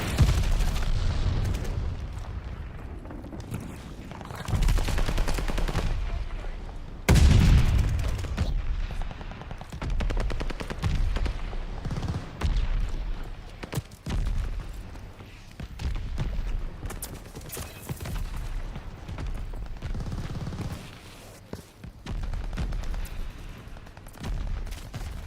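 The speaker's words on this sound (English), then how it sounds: "Allied mortar fire inbound." Allied mortar strikes in the Call of Duty Vanguard video game with the M1928, heard as repeated loud booms and gunfire bursts mixed into dense battle noise throughout.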